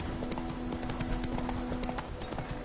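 Roach, the horse from The Witcher 3, gallops in a quick, dense run of hoofbeats. Rapid clip-clop strikes follow close together and stay loud and continuous for the whole moment.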